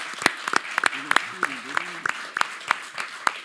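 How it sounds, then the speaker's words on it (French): Scattered hand claps for the mayor at a civic ceremony in Chartres, from a small group, uneven and fairly close, with a voice briefly talking beneath them. "Applaudissements pour le maire Jean-Pierre Gorge."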